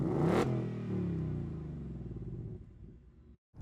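A 2021 Audi RS5 Coupe revs hard before a standing start, with a loud, close engine roar that holds at a steady high pitch for about three seconds, then cuts out abruptly into a brief silence.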